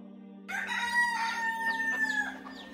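A rooster crows once, a clear drawn-out cock-a-doodle-doo that starts abruptly after a quiet moment and rings close and loud for about two seconds over a faint steady hum.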